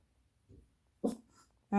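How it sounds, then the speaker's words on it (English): A pet dog barking indoors close by, a soft huff followed by two short, sharp barks spaced apart against a quiet room, no speech. "No, buddy, no bark."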